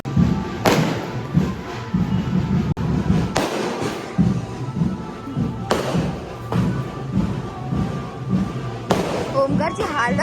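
Firecrackers go off during a Ganesh arrival procession at Hindmata, Mumbai, with four sharp bangs spaced a few seconds apart over a continuous noisy crowd and nearby voices talking.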